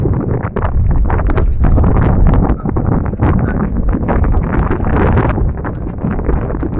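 A Sindhi horse moves at the rewal gait, its hooves giving a quick, steady clip-clop over rough ground, close and loud, with wind buffeting the microphone and a man calling encouragement.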